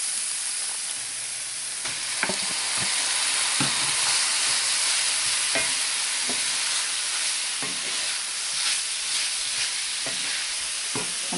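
Ground meat and minced garlic frying for keto sloppy joes, a steady close sizzle with scattered scraping stirs and clicks of a utensil in the pan, no talk.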